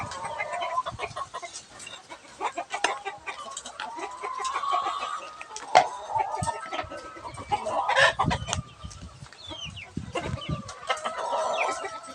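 Chickens cluck steadily in a busy coop while being fed coconut pulp, overlapping calls near and far with scattered scratching and rustling throughout.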